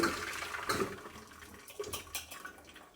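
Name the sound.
water being drained from pot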